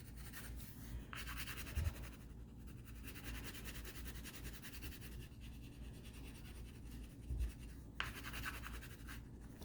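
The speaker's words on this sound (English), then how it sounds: "I am using some crayons, some color pencils, just to get it done faster." Steady scratchy strokes of crayon and pencil on paper, a continuous back-and-forth rasp with a few soft knocks, close and quiet.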